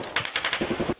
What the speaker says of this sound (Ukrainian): Стріляють з крупнокаліберних кулеметів.